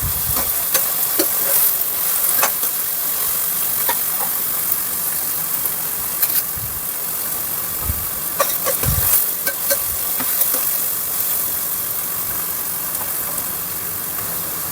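Sliced onions fry in a pan for a mushroom masala curry, a steady close sizzle broken by scraping stirs and occasional clinks of a spoon against the pan, with no talking.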